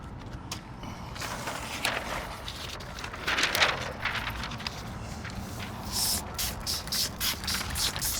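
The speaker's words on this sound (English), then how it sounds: "Spritz everything down pretty heavy." A spray bottle of apple cider vinegar spritzes heavily onto a brisket, with a burst of hissy sprays midway and a rapid run of short spritzes toward the end, among light handling noise.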